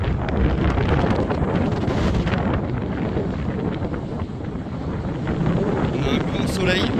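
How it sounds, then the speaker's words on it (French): Strong wind buffets the microphone on the beach at Capbreton, a loud continuous rushing roar that fills the whole stretch, with a faint voice briefly near the end. "Bon, il y a du vent, je couperai un peu le son"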